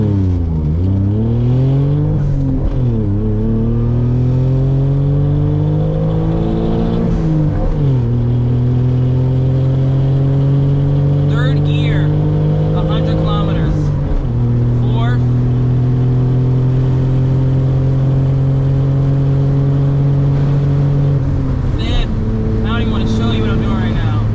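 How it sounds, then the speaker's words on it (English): A Suzuki Cappuccino's small engine revs up hard from a standstill through several gears, pitch climbing then dropping at each shift, loud and close, with interior road noise throughout. "We're gonna do a 0 to 100 pull right now"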